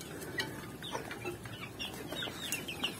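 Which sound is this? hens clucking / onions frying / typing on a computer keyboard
hens clucking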